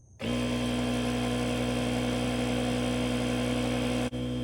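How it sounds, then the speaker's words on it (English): A 150 psi portable air compressor, part of a 5-in-1 emergency power station jump starter, kicks on and runs with a steady loud motorized drone and buzz, briefly dipping near the end. "Next, we've got 150 psi air compressor."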